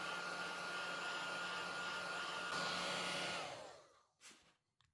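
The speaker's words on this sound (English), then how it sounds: "a hot air gun to try and melt the plastic on the touchscreen itself" A hot air gun blows steadily and loudly close by for about four seconds while heating the plastic touchscreen of a Nintendo Switch Lite, then cuts off, leaving a few faint handling clicks.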